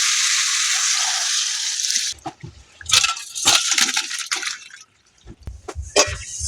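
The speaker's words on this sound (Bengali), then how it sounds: "এবার দিয়ে দেবো জল।" Water streams from a tap for a couple of seconds onto turmeric-and-salt-rubbed fish for curry, followed by wet splashing, dripping and squishing as the fish is handled in a village kitchen.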